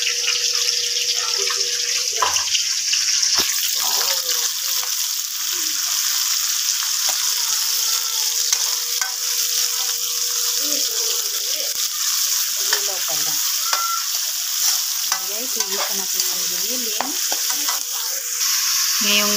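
Ground pork sautés with onion in a hot pan, a loud continuous sizzle with stirring scrapes throughout and occasional faint voice over it.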